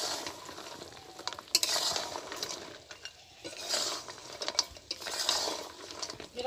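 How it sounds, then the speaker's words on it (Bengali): Katkati sweets being stirred in a pan, a steady scraping and clinking of a utensil against the metal with soft sizzling, in repeated bursts of stirring and no talking. "কটকটিটা দিয়ে ভালো করে নেড়ে চেড়ে দিতে হবে"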